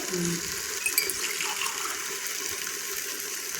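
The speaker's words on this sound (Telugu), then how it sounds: "ఇప్పుడు వాటర్ అయితే పోసుకోవాలి" Water gushes steadily into a vessel, a continuous close pouring rush with faint clinks near the start; no speech.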